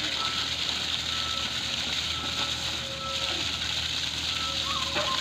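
Continuous gushing water from a pipe at a newly installed residential water meter, a steady broadband hiss and splash lasting the whole stretch at moderate level, with faint voices in the background.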